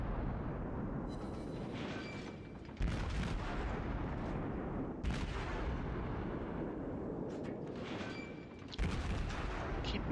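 Battleship main guns fire repeatedly in World of Warships, heavy booming salvos at irregular intervals over a constant loud rumbling background of naval combat.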